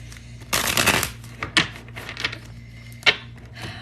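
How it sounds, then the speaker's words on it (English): Tarot cards being shuffled: a dense riffling burst followed by softer scattered card flicks and taps, close up over a low steady hum. "But we're going to actually shuffle now and see what comes out."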